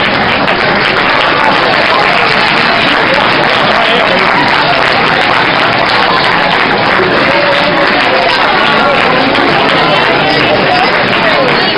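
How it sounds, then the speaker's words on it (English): Crowd applauding parents at an indoor track athletics banquet, steady dense clapping mixed with crowd noise filling the whole stretch at close, loud level. "I want you to give them a round of applause for doing all they did for you."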